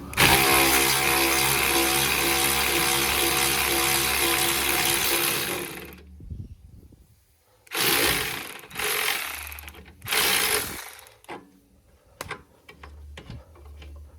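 Ratchet wrench unscrewing a screw on the rear suspension of a 2018-2021 Honda Accord LX, giving a long, steady run of rapid close clicking and then a few short, separate bursts of ratcheting.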